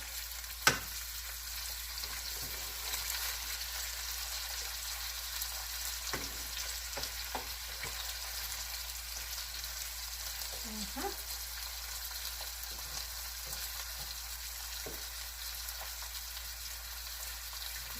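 Salisbury steak patties brown in a frying pan, a steady close sizzle and crackle running throughout, with occasional spatula taps and scrapes.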